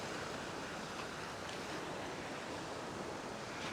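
Sea waves wash steadily against a rocky beach near Alyki Beach in Paphos, Cyprus, a continuous broadband surf roar with some wind noise and no voices.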